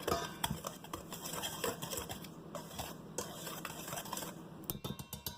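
A metal pastry cutter stirs and sifts flour in a bowl for buttermilk biscuits, making a steady run of close scraping, tapping clatter with sharper clicks toward the end; no one speaks.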